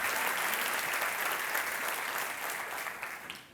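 Church congregation applause during a sermon, dense and energetic at first, then gradually thinning and fading toward the end as the clapping dies down.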